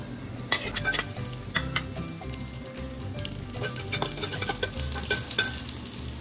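Garlic sizzling in hot cooking oil for a seafood tom yum soup, a steady crackling fry with scraping stir strokes and utensil clinks against the pan, close and continuous with no talking.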